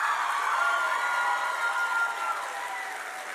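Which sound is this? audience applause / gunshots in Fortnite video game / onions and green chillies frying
audience applause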